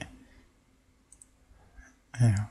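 Faint computer mouse clicks at a desk during receipt-printing software work, two soft ticks midway, then a louder, denser burst of sound right at the end.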